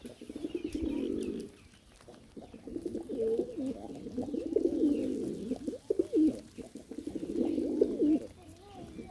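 Pigeons cooing in repeated low throaty phrases, moderately close, with short pauses between bursts and faint chirps around them.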